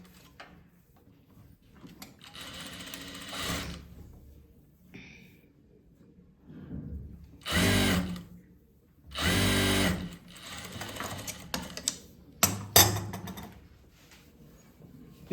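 A sewing machine stitches fabric in short separate runs, each a whirring burst of a second or two, separated by quiet pauses and light handling noises.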